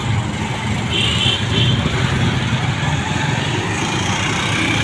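Busy road traffic at a street crossing, with a steady wash of car, bus and engine noise rolling past continuously and fairly loud, no voices standing out.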